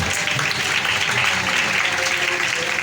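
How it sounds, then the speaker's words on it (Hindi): A church congregation applauds during a sermon, a full, sustained burst of clapping from many people, loud and even throughout with no speech on top. "यीशु मसीह के लिए तालियां भैया।"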